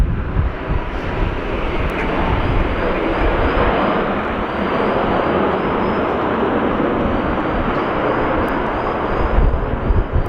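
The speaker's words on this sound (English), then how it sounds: "And a Jetstar touching down immediately after the Qantas link just took off." A Jetstar jet touches down as a QantasLink plane takes off at windy Sydney Airport, a loud, steady broadband engine roar and rushing wind that fills the whole stretch, close and continuous, with no talking.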